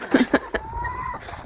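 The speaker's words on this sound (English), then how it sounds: "And the chickens are up here sunning themselves." Chickens outdoors near a roost give several short, near clucks in quick succession, followed by a longer drawn-out call and a faint later cluck, with no speech over them.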